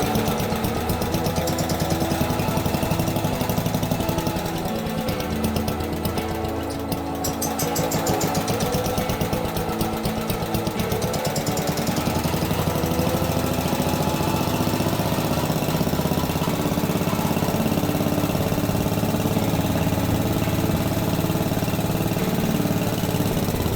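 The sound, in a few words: B-10 engine running at raised idle speed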